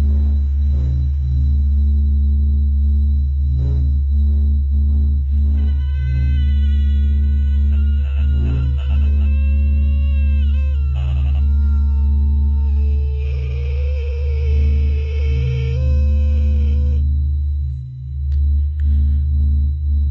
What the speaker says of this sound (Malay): Kata Norman, di hujung talian, saya dengar bunyi macam ada sonar effect gitu